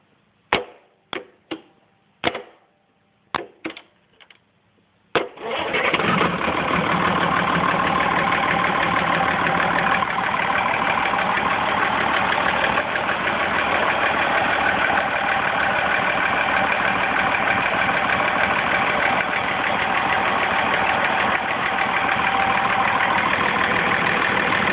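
An old Perkins 6-354 turbo diesel engine gives several sharp clicks and knocks while cranking, then catches and runs. It settles into a loud, steady, close idle that drones on without a break.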